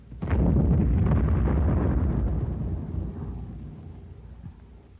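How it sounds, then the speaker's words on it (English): An 81 mm high explosive mortar shell with a delay action fuse detonates in a single heavy, booming blast with a deep low rumble that swells loud and then slowly rolls away into a fading tail. "a swell target for the 81 millimeter heavy high explosive shell"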